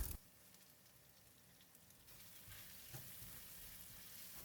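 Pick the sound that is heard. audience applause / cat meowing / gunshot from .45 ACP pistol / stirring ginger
stirring ginger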